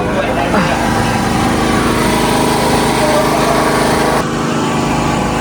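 A large generator drones loudly and continuously at close range, its engine hum steady throughout, with a slight drop near the end, on a squid-jigging boat during a storm.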